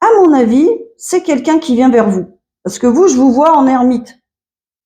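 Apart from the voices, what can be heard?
No distinct noise like a dog, phone or traffic.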